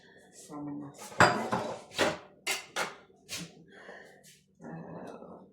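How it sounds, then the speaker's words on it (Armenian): Onion being cut with a knife on a board in a home kitchen, a string of sharp chopping knocks, several loud and close, with quiet gaps between them and no talk. "Սոխը կտրտենք"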